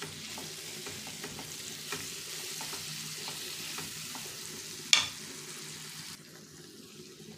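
Fish pieces frying with coriander and other spice powders in a pan, a steady low sizzle with faint stirring scrapes, one sharp clink midway, then the sizzle softens near the end; no talking.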